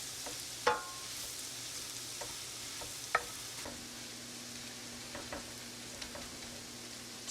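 Onions and mushrooms coated in flour fry in a pan for pub-style potatoes with mushrooms and stout, giving a soft, steady sizzle broken by a few sharp scrapes and clicks as the mixture is stirred. The sound is quiet and close, with no talk.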